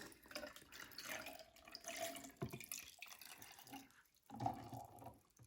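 Lime water solution pours into a 1.5 liter jar of eggs, an uneven close splashing and gurgling stream with short pauses and a fresh surge near the end.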